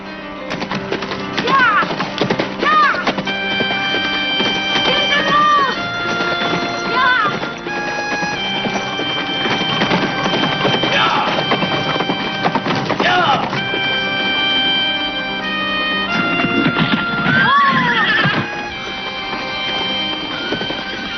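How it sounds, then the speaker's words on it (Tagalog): A horse's hooves clip-clop steadily in a Tagalog-dubbed animated series as a rider sets off on horseback, with loud whinnies breaking in over background music. "agad nang sumakay sa kanyang kabayo si Master Sadie at pumunta na roon"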